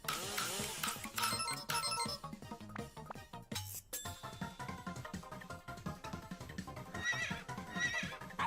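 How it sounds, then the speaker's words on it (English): A horse whinnies loudly near the start, followed by further neighing and some hoof clatter amid a busy, noisy background. "Horse."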